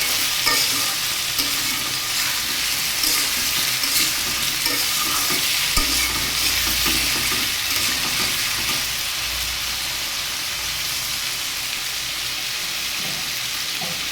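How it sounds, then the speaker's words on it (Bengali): Cucumber, potato and soybean vegetables frying in a pan and stirred continuously, a dense, loud sizzle with steady scraping and clinking of the spatula, close up and unbroken throughout. "দেখুন ঢাকাটা তুলে আমি আর একটু নেড়ে চেড়ে দেবো, যাতে এই সবজিটা ভাজতে ভাজতে বেশিরভাগ সিদ্ধ হয়ে যায়"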